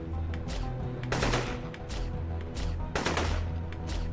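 Rapid bursts of dart gun fire in the video game Dex, loud repeated shots in quick clusters with a steady game backdrop and no talking.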